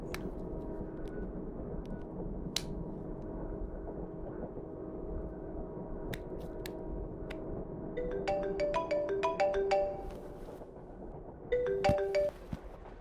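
A phone rings from a mistaken call at night: a short melodic ringtone pattern repeats twice over a low steady background hum, with a few faint clicks earlier.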